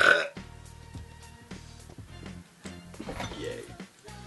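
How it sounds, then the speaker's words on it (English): A game character in Persona 4 lets out a loud belch at the start, followed by game sounds with a steady low hum underneath. "Not even my lucky belch could make the fridge give me food."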